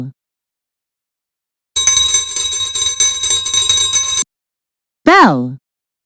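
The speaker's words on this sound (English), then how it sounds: "Bell," A single bell rings steadily for about two and a half seconds with bright metallic overtones, then stops, and a short rising synthetic tone follows after a pause.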